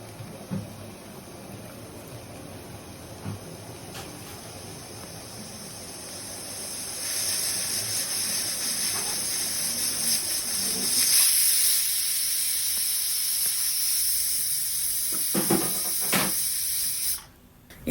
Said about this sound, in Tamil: குக்கரும் விசில் அடிக்க ஆரம்பிச்சிருச்சு.